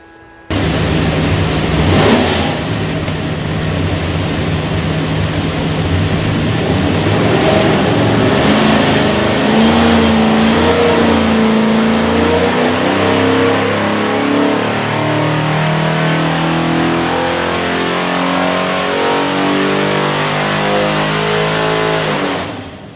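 A Ford 347 cubic-inch small-block V8 with three two-barrel carburetors and a hydraulic roller cam roars on a dyno in a long, loud sustained pull, its deep rumble rising steadily in pitch before cutting off.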